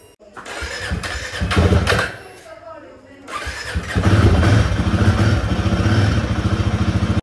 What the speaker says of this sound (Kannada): ಇವನ್ನ ಕೋಲ್ಡ್ ಸ್ಟಾರ್ಟ್ ಮಾಡೋಣ ಇವಾಗ